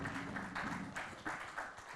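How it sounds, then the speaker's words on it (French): An audience at a conference session claps, giving a dense burst of applause that continues steadily for a couple of seconds. "je vous demande de les applaudir"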